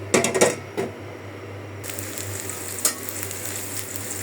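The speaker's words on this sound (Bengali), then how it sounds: "শাপলা তরকারিটা রান্না করে ফেলি।" Water lily curry with small local shrimp fries in a pot, giving a steady close sizzle throughout, with a few clattering stirs and utensil knocks at the start and one more partway through.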